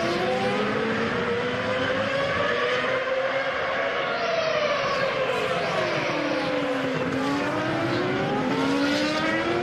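Formula One cars at the 2006 Bahrain Grand Prix scream past one after another, high engine whines rising and falling as they flash by, loud and continuous with a faint commentary voice underneath.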